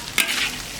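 Pig tails and pork tripe stir-fry in a hot wok with oil and spices, giving a steady close sizzle broken by two sharp scraping stirs of the spatula.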